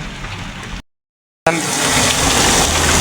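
Loud, steady rush of flood water after a hailstorm pouring and gushing nearby on a slope, broken by a brief silent gap before the torrent resumes at full strength.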